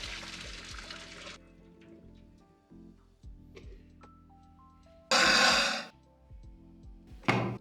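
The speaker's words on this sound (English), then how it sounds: "Have to get rid of that water before we move on." Cooking water drained off boiled ackee fruit, heard as one loud sloshing burst of pouring water midway and a brief splash near the end, over a quiet background.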